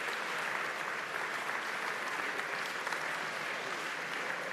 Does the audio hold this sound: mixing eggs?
no